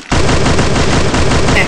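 Rapid gunfire from the Free Fire video game rattles loud and close, a dense burst of shots packed together for a moment, while a player talks excitedly over it.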